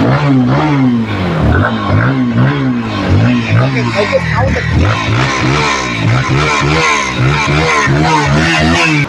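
A used Lifan KPR-165 motorcycle engine revs loudly and continuously up close, its pitch rising and falling in repeated surges with a rough, throaty rumble.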